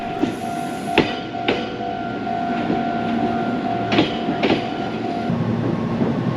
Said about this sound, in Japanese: ホームには折り返し運転の三垣野行きの電車が入線してきました